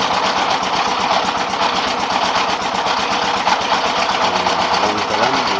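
A rice milling machine powered by a 24 hp diesel engine runs loud and close, a fast steady mechanical chatter and drone that continues unbroken throughout.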